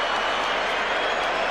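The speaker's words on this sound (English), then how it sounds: "The Mexican crowd giving him a mixed reception." Mexican boxing crowd at a big ringside fight reacting with a mixed reception, a dense continuous roar of cheers and jeers filling the arena without a break.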